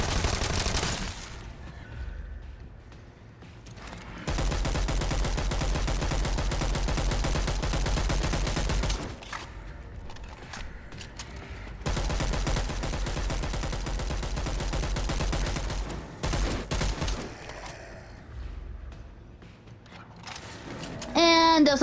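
Bursts of rapid gunfire from the zombie video game Dead Island 2, loud and dense, coming in several long sustained volleys separated by brief lulls of quieter game ambience.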